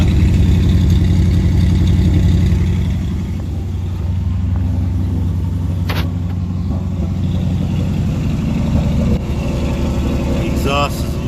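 A 1965 Mustang fastback's 289 V8 idles at around 1200 RPM, a steady close low rumble that eases slightly after the first few seconds, with a brief clank near the end and someone talking over it.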